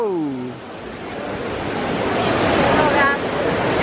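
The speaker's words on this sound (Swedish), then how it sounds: "Nej, vattenfall." A waterfall outdoors in Rome roars as a loud, steady rush of broadband water noise close to the microphone. A brief voice sounds at the start.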